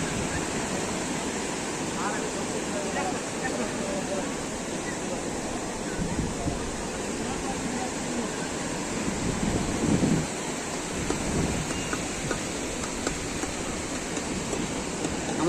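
Sea waves at Digha beach roar as a constant, close wash of surf, with people chatting faintly over the steady noise throughout.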